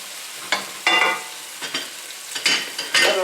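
Black garlic pepper tuna steak sizzles loudly in a hot pan, with a steady fry hiss swelling into sharp bursts as the fish is turned, several crackling surges over a few seconds.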